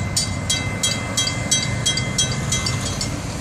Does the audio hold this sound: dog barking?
no